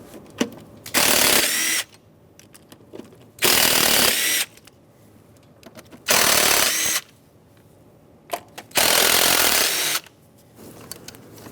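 A power tool spins out the 8mm throttle body bolts on a 2003-2009 Dodge Ram 2500 with a 5.7L V8, four loud close whirring bursts separated by quiet gaps with small clinks.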